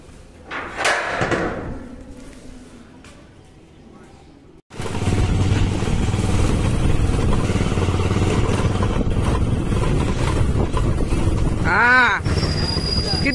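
A motorbike is wheeled out after cleaning: a quiet stretch with a few clunks and knocks gives way abruptly to a loud, steady engine-like roar with a brief squeal near the end, close by.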